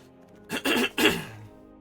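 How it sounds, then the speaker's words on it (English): A man clears his throat in two rough, close bursts of rasping throat noise, with quiet before and after. "I'm going to try and clear my throat out"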